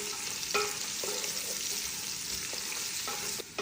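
Sliced carrots frying in a pan with a steady sizzle, a spatula scraping and stirring through them in several distinct strokes, close and moderately loud.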